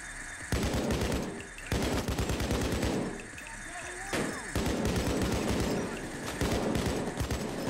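Gunfire in Payday 2 during a jewellery store heist comes in rapid automatic bursts. Several loud volleys are separated by brief pauses, with sharp repeated shots close up.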